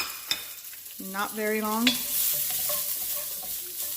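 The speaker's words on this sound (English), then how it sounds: "So this wok is hot enough. This is exactly what I want. Now I'm gonna do a quick saute of the cabbage again." Cabbage sautéed in a hot wok for take-out style chicken chow mein, a bright continuous sizzle and stirring close up, with a short spoken remark near the start.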